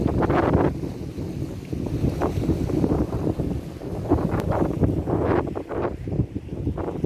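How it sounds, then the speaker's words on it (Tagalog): Strong wind at sea buffets steadily in loud, rushing gusts throughout, with a rumbling low roar and no voices. "kahit malakas yung hangin"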